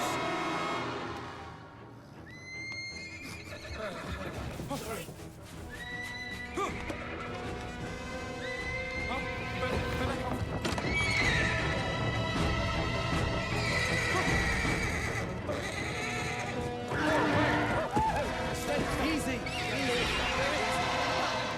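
A huge horse in a film scene neighs and whinnies while hooves clip-clop, under music and background sound, with someone talking over much of it.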